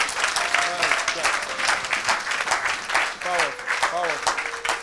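A church congregation applauds and cheers for Jesus Christ during a Sunday worship service, with dense continuous clapping throughout and voices calling out over it.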